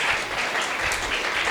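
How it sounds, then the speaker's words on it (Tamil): An audience at a school citation day ceremony applauds the staff, a loud, dense, continuous roar of clapping from a large crowd with no talk over it. "அவங்களுக்கு ஒரு நல்ல கைத்தட்டல் தாங்க ஸ்டாஃப்ஸுக்கு"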